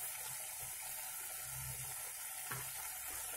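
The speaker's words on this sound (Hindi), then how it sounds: "और मैं यहाँ जो अदरक लहसुन प्याज पेस्ट इसे भी डालूंगी और इसे हमें चम्मच से चलाना पड़ेगा लगातार।" A spoon keeps stirring ginger, garlic and onion paste in a hot pan for an egg paneer curry, giving a constant close sizzle with soft scraping strokes and a brief knock, with no voices.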